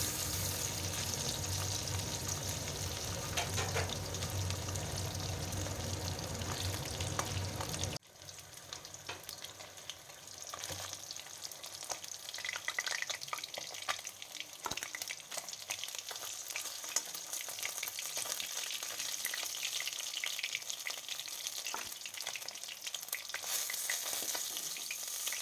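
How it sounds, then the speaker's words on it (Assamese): Pieces of chitol fish fry in oil in a pan with a steady, dense sizzle throughout. The sizzle drops abruptly to a quieter, crackling level partway through and continues that way. "বাকী থকা কেইপিছো একেধৰণেৰে মই এপিচ এপিচকৈ দি ভালদৰে ভাজি ল'ম অলপ।"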